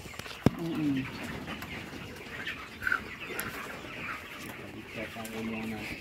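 Chickens, grown from delivered chicks, cluck in short bursts against a busy outdoor background in Taal, Batangas, with other birds calling and some faint voices nearby.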